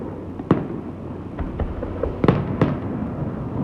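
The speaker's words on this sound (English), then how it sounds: "As the charges went off, a shudder went through the building." Demolition charges implode the Aladdin hotel in Las Vegas in 1998. A few sharp, distant cracks stand out over a steady low rumble.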